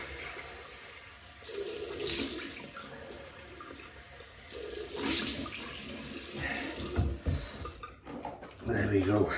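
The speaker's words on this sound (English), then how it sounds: "So that'll do, cold water rinse" Cold water runs from a tap for a rinse during a wet shave with a 1960s Gillette Techmatic razor, a steady close splashing flow that rises and falls while someone talks over it.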